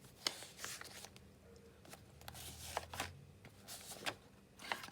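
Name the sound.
shuffling a pile of paper pages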